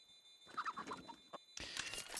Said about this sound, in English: if you're like walking in the apartments, and then you've got a chicken near you, it's just going to be making so much noise